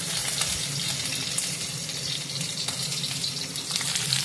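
Continuous crackling sizzle of ground ginger, garlic and chili frying in hot oil, close and steady, with occasional faint stirring scrapes and no talking.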